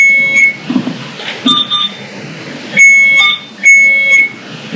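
Electronic beeps from an infusion pump alarm during a pressure test, sounding in several short bursts with pauses between them, fairly loud against a quiet room.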